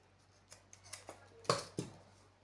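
Scissors snip excess fabric off a sequined beret cap in a few quiet, separate cuts, the last two louder and sharper.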